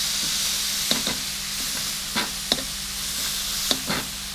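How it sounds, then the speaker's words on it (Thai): Thai pork sausage frying in hot oil gives a steady, close sizzle and hiss, broken by a few small pops and stirring clicks. "แล้วคือทอดมันเป็นกรอบๆนะครับ"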